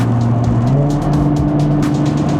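A Nissan GT-R accelerates hard, its engine giving a loud, close, sustained roar as it pulls strongly, with a steady drone and no talking over it.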